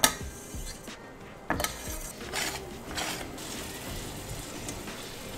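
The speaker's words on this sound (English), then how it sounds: "We're gonna stir that up and let it cook." Shrimp being stirred in a cooking pan, with a metal utensil clinking and scraping against the pan in irregular strokes, close and moderately loud.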